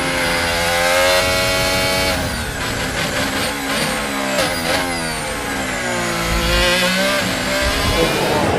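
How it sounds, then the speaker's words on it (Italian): Racing simulator recreating a lap in Hamilton's Mercedes F1 car at the Barcelona circuit, with a loud, high-pitched engine that revs up and drops through repeated gear shifts, steady and close throughout. "È come fare un giro sulla Mercedes di Hamilton al circuito di Barcellona"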